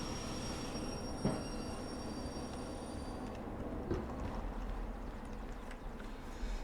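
A locomotive in a train-driving video game rumbles steadily along with a constant mechanical drone, faint clanks and a thin high whine over the running noise.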